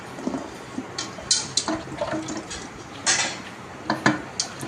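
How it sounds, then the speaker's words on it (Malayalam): Vegetables for aviyal being washed in water in a vessel, with repeated clanks and clinks of the pot alongside splashing in an irregular rhythm. "നന്നായി കഴുകി വൃത്തിയാക്കുക"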